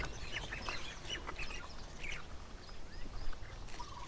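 Ducks feeding outdoors in Hawaii, scattered faint quacks and chirpy calls over a steady wash of outdoor noise, fairly distant and quiet.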